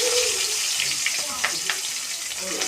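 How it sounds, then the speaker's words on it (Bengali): Chopped onions frying in oil with panch phoron and green chillies, a close, steady hiss of sizzling with a few soft spatters over its short span, no talking. "পেঁয়াজ লাল লাল ভাজা হয়ে গেছে"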